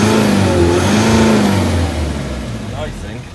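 Land Rover 90 engine running after a dose of injector cleaner, a loud mid-pitched drone with a rising and falling rev that eases off toward the end, lightly burning oil from the exhaust.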